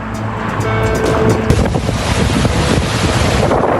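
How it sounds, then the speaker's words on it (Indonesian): Strong wind roars across the microphone as high waves crash and slosh against a row of boats along the coast at Tuzla, loud and continuous throughout. "terjangan angin kencang menciptakan gelombang tinggi yang mengguncang deretan perahu di sepanjang pesisir"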